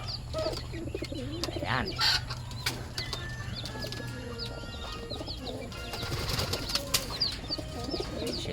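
Pet pigeons in a loft coo and rustle nearby, with bursts of wing flapping and scattered bird calls over a low background hum, and someone speaks briefly.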